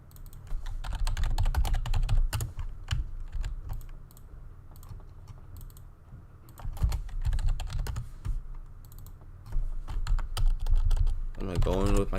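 Rapid typing on a computer keyboard during a live Photoshop sports-design session, steady clattering keystrokes up close with short pauses, fairly loud throughout.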